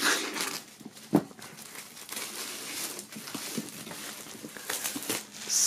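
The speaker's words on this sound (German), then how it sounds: "Einmal hier schön aufschneiden und die Folie abmachen." Plastic shrink wrap being cut open and pulled off a boxed set, close crinkling and crackling in irregular bursts with one sharp tearing rip, and no talk over it.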